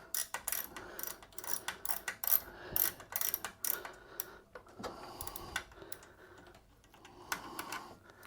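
A part being loosened inside a Stone espresso machine during repair of a clogged gicleur valve: close, dense clicking and ratcheting of a tool turning metal, with soft knocks and handling noises throughout, no speech.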